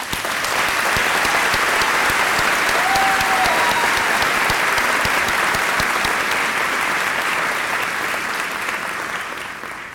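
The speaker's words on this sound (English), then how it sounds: "I would like everyone to join me in a round of applause, thanking them for their efforts this year" Large crowd at the Georgia Law commencement ceremony applauding the graduating class, a loud, continuous roar of clapping that stays steady for the whole stretch and eases slightly at the end.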